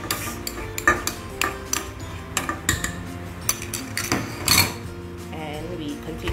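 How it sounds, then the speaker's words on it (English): A utensil clinks and scrapes against a bowl in an uneven, slow rhythm as grated carrots and orange are stirred into wholemeal carrot cake batter in a kitchen. "And we continue to mix them slowly."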